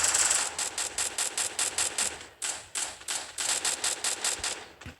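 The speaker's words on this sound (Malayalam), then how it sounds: "നമുക്ക് ഒളിച്ചിരുന്ന് വേണം വെടിവെക്കാൻ." Gunfire in the mobile battle game Free Fire, with rapid rhythmic bursts of automatic shots in two volleys separated by a short pause, crisp and close.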